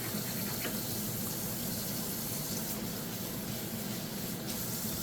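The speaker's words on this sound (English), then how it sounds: "we're gonna give our hands a quick rinse, quick wash." Running tap water splashing over hands during a rinse in a kitchen, a steady close hiss and gush throughout with no talking.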